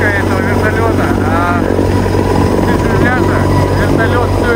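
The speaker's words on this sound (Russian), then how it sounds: "вертолет все еще висит" A Mi-26 heavy-lift helicopter hovers while carrying another Mi-26 slung beneath it for repair, a loud, steady rotor and turbine roar filling the whole stretch, with voices speaking underneath.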